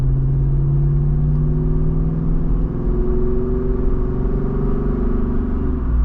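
A 2023 Jeep Wrangler Rubicon 392 pulls away from a stoplight, its big V8 rumbling loud and close as the engine note climbs smoothly and steadily through the pull.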